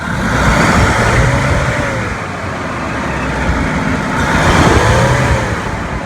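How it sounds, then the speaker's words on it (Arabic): A car engine fitted with a natural gas conversion system revs up and down in two loud, sustained swells, rising and falling pitch clearly audible over steady mechanical rumble, close by. "وادي قوه الموتور اهي"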